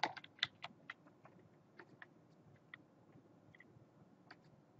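Soft, irregular keystrokes on a computer keyboard, fairly quiet, with a quicker burst at the start and then scattered taps and pauses, no voices.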